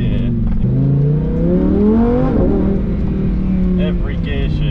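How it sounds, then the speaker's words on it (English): A supercar engine pulls hard through its gears, revs sweeping up and down across shifts with a steady droning roar, heard from inside the car. "the gear changes are so intense"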